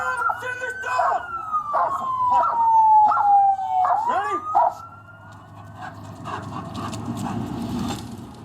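A police dog barks several times in quick succession, loud and close, while a siren wails throughout and voices talk in the background.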